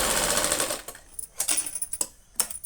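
Sewing machine stitching a two-inch tuck on a blouse, a fast close mechanical whir at first, then short separate bursts of stitching broken by pauses.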